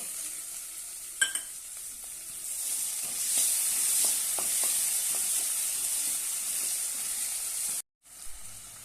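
Chopped tomato hits a pan of hot oil with ginger-garlic paste, giving a steady close sizzle with scattered spoon scrapes and taps as it is stirred, cutting off briefly near the end.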